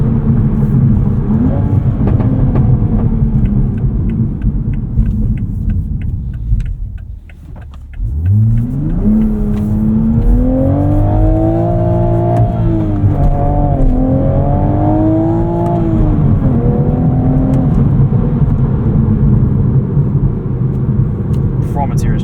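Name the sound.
sports car engine accelerating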